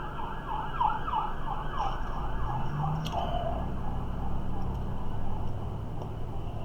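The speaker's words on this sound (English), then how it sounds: "I think that's an ambulance. I don't think that's a cop car." A wailing ambulance siren rises and falls repeatedly, moderately distant, over steady traffic rumble.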